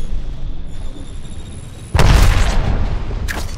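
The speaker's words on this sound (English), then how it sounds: "Throw an Arc Star!" An Arc Star grenade in Apex Legends detonates with a loud, close boom after a quieter stretch of ambient noise, followed by a lingering crackle and a second short burst near the end.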